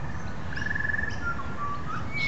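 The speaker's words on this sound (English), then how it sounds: "Butcher birds tend to be pretty tame because people feed them." A butcher bird gives a few thin, whistled call notes outdoors on an early morning walk. The calls are faint and somewhat distant over a steady low background rumble.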